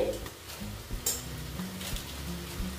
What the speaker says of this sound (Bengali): অল্প নেড়ে নিচ্ছি।